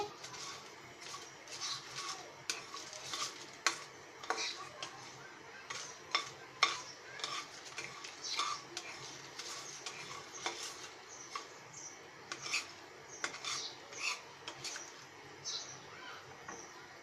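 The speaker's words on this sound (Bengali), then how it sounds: "আমরা সুন্দর করে নেড়ে নিচ্ছি" Whole spices for garam masala being stirred in a dry pan, a quiet run of irregular scraping and rattling taps close by, with no one speaking.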